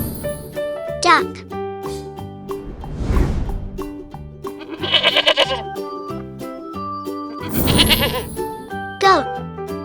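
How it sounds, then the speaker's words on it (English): A goat bleats several times in wavering, nasal cries over a tinkling musical backing, with a voice speaking between the calls. "Goat."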